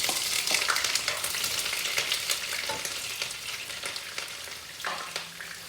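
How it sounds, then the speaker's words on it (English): Onion frying in a few teaspoons of oil for chicken chow mein, a dense close sizzle with scattered crackles and brief stirring scrapes, steady and unbroken, no voices. "So you just put the onion in and let it fry up like about half a minute"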